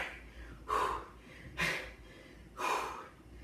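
Heavy breathing after a HIIT core workout at home, three loud, rhythmic breaths about a second apart, each a rushing exhale, close to the mic over a quiet background.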